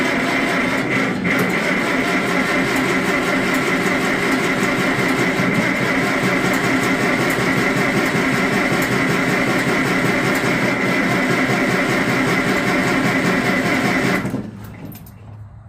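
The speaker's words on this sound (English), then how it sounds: "let's see if the 400 will start after sitting for months and months on end" A Farmall 400 tractor engine, left sitting for months, runs loud and steady at idle nearby, then cuts out abruptly near the end, leaving quiet.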